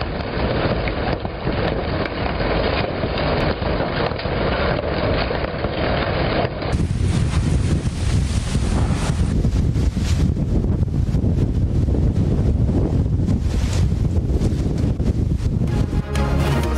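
Strong storm winds batter Islamabad with rain, a continuous loud gusting roar and buffeting that shifts in character partway through, with no voices.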